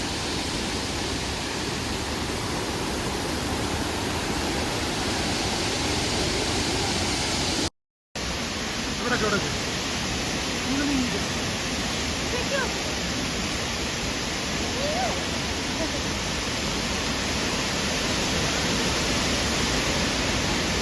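A waterfall with blue water, seen from near its top, roars as a steady, dense broadband rush that fills the whole clip, with only a momentary dropout partway through.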